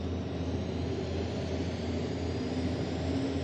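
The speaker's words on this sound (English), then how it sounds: "No, we're not at the airport, but that is another turbine firing." A tractor-pulling vehicle with Lycoming T55 turbine engines fires up at a night pulling event, producing a steady, loud, unbroken turbine roar and whine that holds for several seconds.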